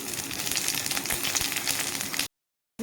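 A bay leaf, dried chilli and panch phoron sizzling in hot oil for an aloo bori tomato curry: a loud, dense crackling sizzle with sharp pops, cutting off abruptly into silence.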